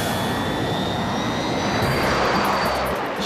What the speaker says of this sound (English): She must be on that plane.